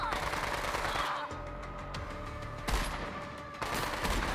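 Sniper rifle fire in Borderlands 3 rings out as a few sharp, heavy shots over a continuous layer of game noise and effects, with distinct reports near 2.7 and 3.6 seconds.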